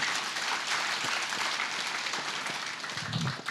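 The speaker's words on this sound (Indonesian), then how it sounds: "Beri tepuk tangan bagi Allah kita" A church congregation at a New Year service claps together in steady, dense applause, loud and continuous, briefly dipping near the end.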